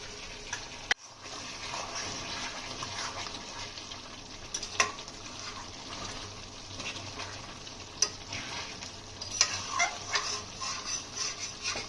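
Chicken curry browning in oil in a pan, stirred now and then, gives a steady close sizzle broken by a few sharp scrapes and clacks of the spoon, with no talking.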